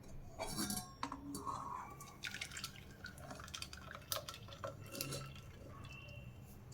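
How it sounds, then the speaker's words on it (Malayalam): Blended watermelon and mint juice is strained into a cup, making faint, close trickling and dripping with occasional light clinks of glass or utensils. "ഇനി നമുക്കിതൊന്ന് അരിച്ചെടുക്കാം"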